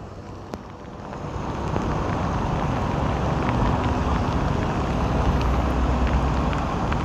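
Heavy rain pours steadily during a motorbike ride through Saigon, a dense hiss of rainfall mixed with road and wind noise that builds after the first two seconds, with a few sharp drips and ticks; no one speaks.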